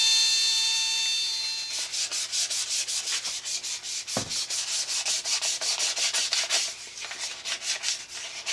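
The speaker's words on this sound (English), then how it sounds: "I'm still sanding. I'm down to the really fine grit now." Steady rhythmic sanding strokes with fine-grit sandpaper rub back and forth across a segmented wooden bowl, a close, even scratching rasp with no voices.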